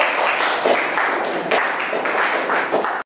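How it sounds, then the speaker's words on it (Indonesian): A classroom of students claps for the second group, who performed the Jayeng Rana dance, in short uneven bursts of moderate loudness that stop abruptly. "Beri tepuk tangan kembali"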